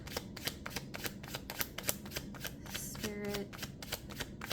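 Oracle cards being shuffled by hand in a steady run of quick, crisp riffling flicks, close and fairly quiet, with a brief softer slide partway through and no talking.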